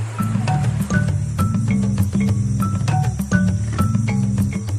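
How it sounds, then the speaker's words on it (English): Jungle crickets chirp steadily in the Namibian bush near a river during the dry season, a continuous shrill drone joined by a lower, rhythmically repeating hum throughout. "First, they need to catch the bait, jungle crickets."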